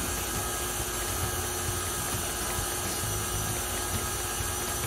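An electric mixer whirs through cream cheese tart batter with eggs, a continuous, even motor drone at moderate level with no pauses and no voices.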